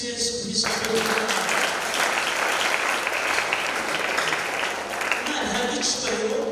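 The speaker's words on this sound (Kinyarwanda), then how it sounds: "Amashyi menshi ku ijambo ry'Imana." Applause from a church congregation during a men's conference, a sustained, dense clapping that fills the room at steady loudness for several seconds, with a brief dip near the end.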